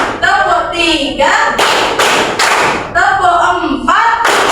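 A class claps a counted pattern in dense bursts of many hands, close and loud, alternating with group chanting of the count.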